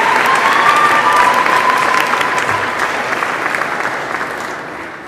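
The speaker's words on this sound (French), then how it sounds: "applaudissons encore une fois nos finissantes et nos finissants du programme Gestion du tourisme" An audience applauds graduates of a tourism management program at a 2015 technical school graduation ceremony, a loud, dense clapping that slowly fades toward the end.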